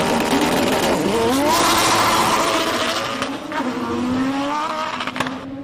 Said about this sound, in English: Let's have a listen to this takeoff from Aldo Scribante. It's the Audi S4.